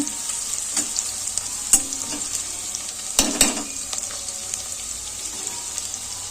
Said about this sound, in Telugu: చూడండి ఇలాగ లైట్గా వేపుకోవాలండి